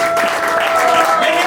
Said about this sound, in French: Est-ce qu'on peut acclamer encore l'apôtre?